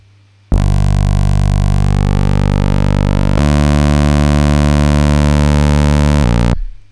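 Heavily distorted synthesized tone from a sound-design distortion effect as an EQ band is swept, a loud, sustained buzzing drone whose harmonic color shifts and then changes abruptly partway through before cutting off.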